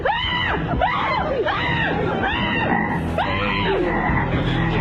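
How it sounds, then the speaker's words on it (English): Frogs croak in a loud, close series of about five rising, warbling calls at a regular pulse over a steady background murmur. "So I'm going to bring some frogs out here."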